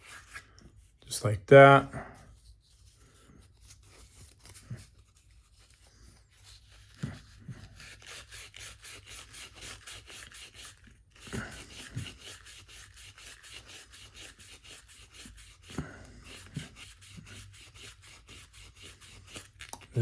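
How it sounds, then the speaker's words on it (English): A Necchi 536FB sewing machine part rubbed with 500 grit sandpaper, soft scratchy strokes in bursts with pauses, close and fairly quiet, with someone talking over some of them. "Just take the 500 grit sandpaper and go over it."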